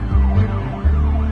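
An ambulance siren wails in a close, loud, continuous sweep, with a low vehicle rumble running underneath.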